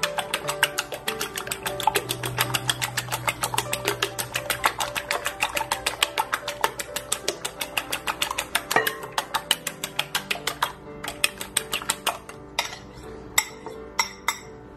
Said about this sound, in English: So this is going to be 3 eggs. And I like to whisk that up a little first.